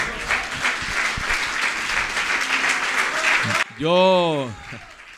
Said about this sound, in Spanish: ¿Cuánto le dan palmas de alabanza, hermano?